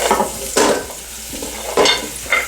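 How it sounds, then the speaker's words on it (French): Beef bones frying in a pot for a smoked-fish cassava-leaf dish, giving a steady sizzle broken by three loud, sharp pops spaced about a second apart, close by with no talk. "vous entendez le bruit de pop, pop, pop."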